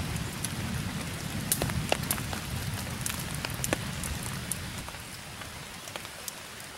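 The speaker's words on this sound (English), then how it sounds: "it's like pouring here" Heavy rain pours down steadily during a thunderstorm at an outdoor survival campsite, a dense continuous wash of drops with sharper patters and drips cutting through, fairly loud and close, with no voices.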